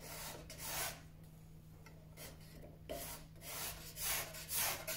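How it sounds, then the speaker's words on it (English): A dull cabinet scraper rasps across wood in a workshop, a few quiet uneven strokes with short pauses between them, close and soft. "cabinet scraper needs sharpening. It'll do for now, it's only taking some bits off."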